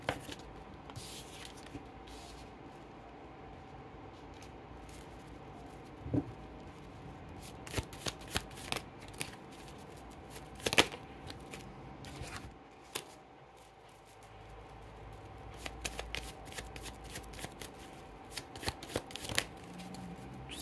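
Tarot cards being shuffled by hand make a steady, soft riffling and flapping with scattered crisp snaps, continuing quietly and close for about twenty seconds with no talk.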